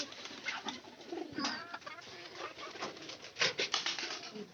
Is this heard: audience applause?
no